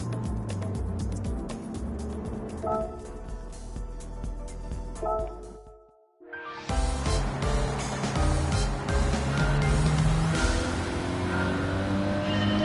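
Renault Clio engine in Gran Turismo 7 running on sports tyres, a steady loud drone that dips almost to silence midway before surging back with rising revs and broadband road and wind noise.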